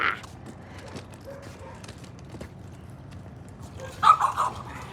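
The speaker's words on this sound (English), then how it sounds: "That dog is going crazy." A dog barks in a short burst of several sharp yelps toward the end, heard outdoors on a neighborhood street over a steady low background rumble.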